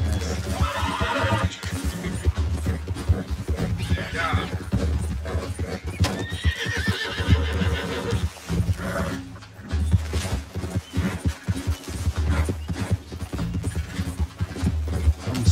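In the Red Dead Redemption 2 video game, a ridden horse neighs and whinnies several times over the rhythmic clip-clop of its hooves, loud and close with game ambience.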